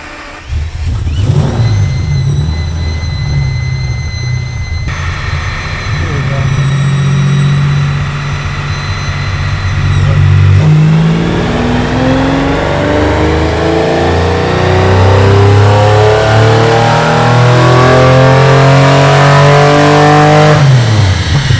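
A V12-swapped Foxbody Mustang revs hard on a dyno, the loud engine climbing through rising pulls with steady harmonic sweeps, dropping back between runs, no talk over it.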